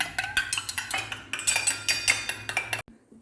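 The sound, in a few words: mixing egg yolk and milk with a spoon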